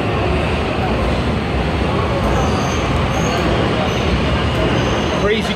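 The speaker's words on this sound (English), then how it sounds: "there goes the Subway train right there" Loud, continuous rumble of a subway train pulling away in China, heavy low roar filling an underground space with faint squeals on top.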